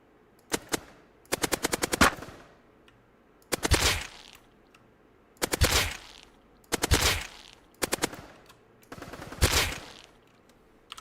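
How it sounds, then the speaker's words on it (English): Fully automatic sniper rifle fire in a first-person shooter game built on a custom C++ engine: six sharp bursts of rapid shots, each a rattling string of cracks, separated by short pauses, loud and close with no talk. "fully automatic sniper rifle."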